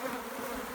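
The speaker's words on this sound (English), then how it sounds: "So yeah, these bees are quite angry" Dense, steady buzzing of many agitated honeybees close by at an open hive, a continuous droning swarm sound with no pauses.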